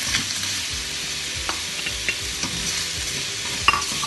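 Chinese sausage frying in a pan for a chicken kway teow stir fry: a close, steady sizzle with stirring scrapes and occasional utensil clinks throughout, no voices.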